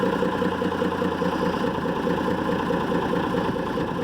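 A Unimog Freightliner FLU419 truck, stuck in deep mud, spins its wheels under a steady, loud, close engine drone that holds throughout with no talking.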